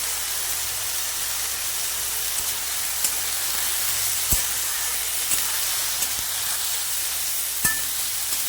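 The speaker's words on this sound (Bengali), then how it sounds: "দেখুন শাকটাকে আমি একটু কষিয়ে নিয়েছি, একদম নরম হয়ে গেছে।" Ash gourd greens fry in a pan with salt and turmeric, giving a constant, bright hiss and sizzle with occasional sharp crackles and taps.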